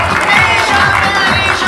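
An audience at a Hindi awards ceremony for a rangoli event cheers and applauds in a steady, loud crowd roar that carries through the whole moment, with no talk over it.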